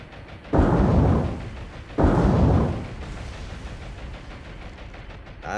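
Two heavy booms from a ship's deck gun in a naval combat game, each a loud low blast with a rumbling tail, about a second and a half apart, then a quieter rumble of engine and sea.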